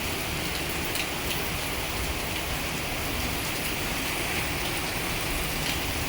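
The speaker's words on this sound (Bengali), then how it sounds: "আর একদম জবরদস্ত বৃষ্টি হচ্ছে" Heavy rain pours steadily over an outdoor scene during a flood at Namo Ghat, a dense, unbroken roar of drops on surfaces that stays loud and even throughout, with no voices.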